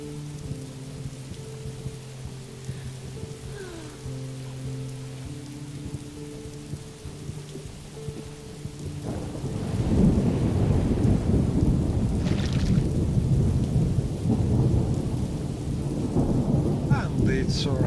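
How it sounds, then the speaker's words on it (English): Rain and thunder in the video game Morrowind: a quiet ambient stretch gives way halfway through to a loud, steady wash of rainfall with rumbling thunder, and no speech. "And it's raining"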